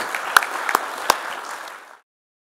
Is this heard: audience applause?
yes